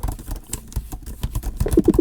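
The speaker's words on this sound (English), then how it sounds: "Here's my real typing speed." Fingers type quickly on the keyboard of a 2019 Apple MacBook Pro 16-inch, making a fast, uneven run of soft, low clicks up close. Nobody speaks.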